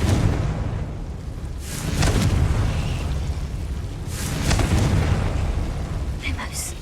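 The Confringo explosion spell in the video game Hogwarts Legacy, a few booming blasts bursting over a rumbling background, with a voice speaking between them.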